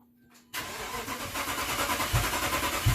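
A 2014 Dodge Charger with a 5.7L engine that barely runs, cranked by its starter after a quiet moment: a steady, rapid whirring churn with rhythmic compression pulses and a couple of heavier thumps, close up.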